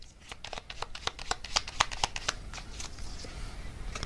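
Tarot message cards are shuffled by hand in a quick run of crisp riffling flicks and soft card slaps, close and fairly steady, with no talking.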